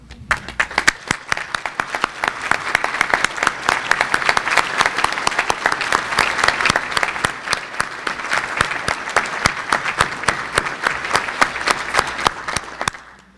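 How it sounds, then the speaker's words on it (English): A large civic audience at a State of the City address applauds public safety professionals, sustained dense clapping that swells and then fades out. "I'd ask you to stand up and take your applause."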